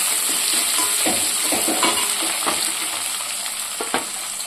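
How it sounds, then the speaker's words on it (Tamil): Sambar onions fry in hot oil for kurma kulambu, giving a loud steady sizzle that runs throughout. A spoon stirs the pan now and then, adding soft scraping knocks close by. "சாம்பார் வெங்காயம் போட்டுக்கலாம்."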